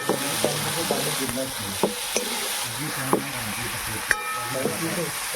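Potatoes with turmeric, salt, garam masala and chilli powder stirred in a kadhai over a firewood chulha, with steady sizzling and repeated scrapes and knocks of a spoon against the pan.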